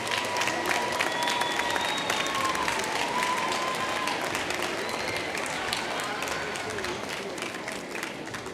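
Large audience applauding graduates at a university commencement ceremony in a big hall, dense steady clapping with a few whoops, gradually easing off.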